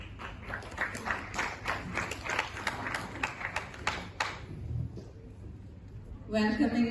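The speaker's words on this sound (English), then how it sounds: "I think we should have a competition on who claps the loudest." Audience clapping at an international education conference and awards ceremony in Dubai, a run of scattered claps and taps with chatter in the room, fading out before a louder burst near the end.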